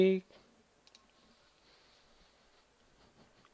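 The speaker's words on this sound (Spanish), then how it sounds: "Le hago clic." Faint, isolated computer mouse clicks while installing software on Ubuntu Linux, quiet and spaced apart after a brief voice at the start.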